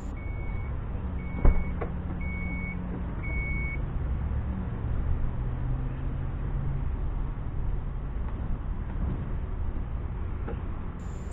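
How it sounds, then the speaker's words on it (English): Power liftgate on a 2016 Chrysler Town & Country opening, announced by four short, evenly spaced warning beeps in the first few seconds over a steady low mechanical hum, with a faint click near the end. "The Town & Country does come with a power trunk, and there are three different ways to open it"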